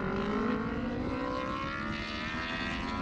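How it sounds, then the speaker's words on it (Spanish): High-revving 1000 cc racing motorcycles scream steadily at a national speed championship race in Amozoc, Puebla, a continuous loud engine roar with no talk. "Así gritan las 1000 centímetros cúbicos. Qué delicioso sonido emiten las motos más rápidas de México."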